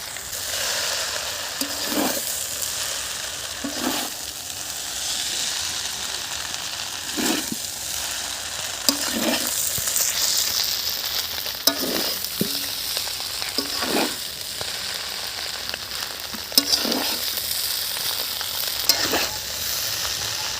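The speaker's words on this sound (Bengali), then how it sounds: "এখন দিয়ে দিচ্ছি আমি ডিমগুলো" Eggs fry in a pan for Maggi noodles, a steady hiss of sizzling oil running throughout, broken by regular scraping thumps of a spatula every couple of seconds.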